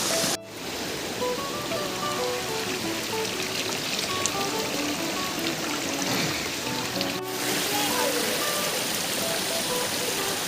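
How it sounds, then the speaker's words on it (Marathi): River water flowing steadily in a scenic stream, a continuous close rushing and splashing wash with faint tonal sounds drifting over it. "मित्रांनो बघा ही किती सुंदर अशी नदी आहे"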